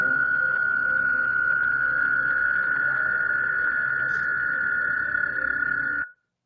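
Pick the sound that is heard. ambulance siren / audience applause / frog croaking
frog croaking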